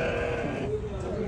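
Sheep and goats bleat at a livestock market in Riyadh where fat-tailed sheep are sold, a close, harmonic cry in the first half over a steady crowd murmur and talking voices.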